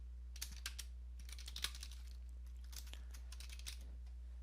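Someone types on a computer keyboard with quick, light, irregular clicking keystrokes in short bursts, faint and close over a steady low electrical hum.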